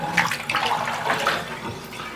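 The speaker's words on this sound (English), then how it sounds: "Yep, that's hot water." Hot water running steadily from a newly installed bathtub faucet in a renovated tub-and-wall surround, a continuous close splashing stream with no talk over it.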